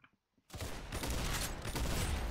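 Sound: gunshots in a Roblox Arsenal video game

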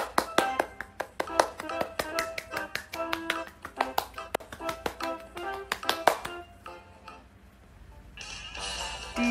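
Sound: children clapping for everyone

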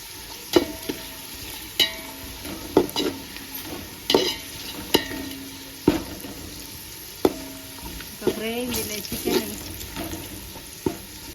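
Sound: masala spices frying in a pan for chicken donne biryani

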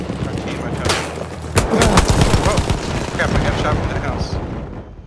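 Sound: gunfire in Battlefield 1 video game

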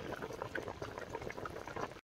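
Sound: pouring fresh water into a cooking pot

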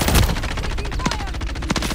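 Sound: gunfire in the video game Call of Duty

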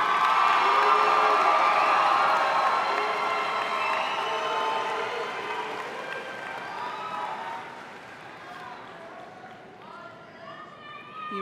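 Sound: graduation audience applauding and cheering

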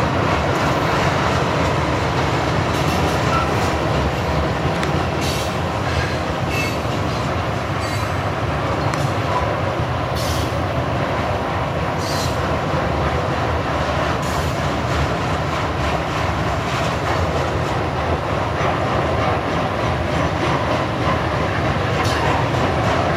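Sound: freight train passing

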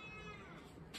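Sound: cat meowing

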